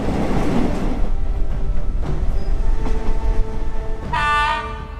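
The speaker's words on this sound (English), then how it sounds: "Soon the train was encountering tunnels." A train rumbles steadily through tunnels with loud low roar and clatter, then a bright high-pitched horn or whistle tone rises near the end.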